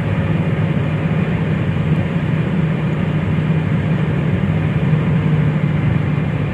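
Honda Civic cruising at high speed on a highway, a steady loud low road and engine drone with wind rush, continuous and unbroken throughout.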